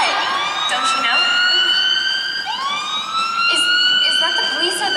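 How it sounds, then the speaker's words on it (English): A loud wailing emergency siren from a police car or ambulance sweeps up and down repeatedly, with a second rising tone layered over it and voices faintly underneath. "Is that the police or the, probably the ambulance, to take Alice Blake to the hospital"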